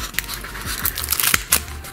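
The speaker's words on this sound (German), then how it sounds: "jetzt schnappen wir uns einfach unsere Schere und schneiden schöne, dünne Streifen" Scissors snipping thin strips into folded aluminium foil to sharpen the blades, a string of crisp crinkling cuts at close range, with no talk.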